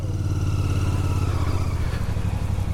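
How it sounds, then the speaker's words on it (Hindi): Royal Enfield Bear 650 motorcycle with a 648 cc parallel-twin engine and a 2-into-1 exhaust, idling up close: a steady, loud, throbbing low rumble with a regular pulsing beat and no talking. "So this is how the 2:1 exhaust setup sounds."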